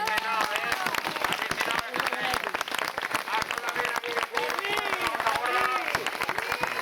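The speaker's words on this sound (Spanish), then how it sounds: "un fuerte aplauso para ellos" An audience at a Camping Caravan gathering in Valencia applauds in a steady, dense wash of clapping that lasts throughout, with voices talking over it.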